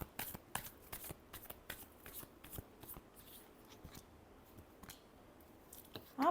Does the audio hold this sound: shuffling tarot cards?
yes